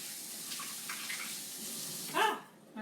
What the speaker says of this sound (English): I'm gonna rinse my hands off now.